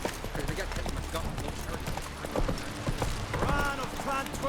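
Roach the horse's hooves clip-clop in The Witcher 3 video game, a steady rhythmic trotting under game music and effects, with someone talking over it.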